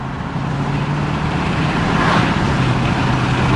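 An Aston Martin DBX luxury SUV pulls away under acceleration, its engine rising as a loud, steady broadband roar with road and wind noise that swells slightly toward the end.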